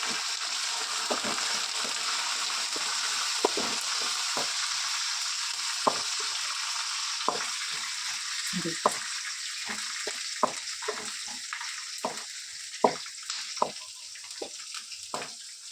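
Curry leaves, chana dal and salt frying in oil in a pan for masala chitranna, a steady bright sizzle with scattered scraping clicks of a spoon stirring, close and alone without voices.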